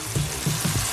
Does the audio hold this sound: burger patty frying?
yes